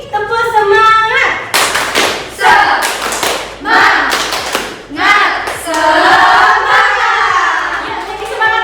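A classroom of children performs a rhythmic spirit clap, sharp patterned hand claps and thumps mixed with children's voices chanting and shouting along, loud and close.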